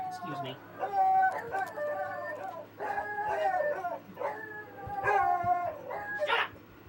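A dog gives a run of high, whining yelps and short barks, close and fairly loud, mixed in with a person talking over it.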